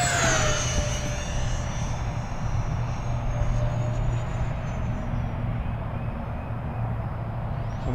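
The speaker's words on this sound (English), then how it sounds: "this is an aggressive flying airplane." A radio-controlled E-flite A-10 Thunderbolt II model jet with twin 64mm ducted fans roars steadily overhead above a grass field, its high engine whine sustained and loud, pitch sliding gently downward as it passes.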